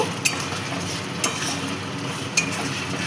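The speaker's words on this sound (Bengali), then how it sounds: "দিয়ে দেব এর মধ্যে সামান্য পরিমাণে চিনি, আর দেব কাসুরি মেথি। এবার ভালো করে মিশিয়ে নেব।" Spices with a pinch of sugar and kasuri methi get mixed in a hot pan, a dense frying hiss under three crisp spoon scrapes against the pan, no voices.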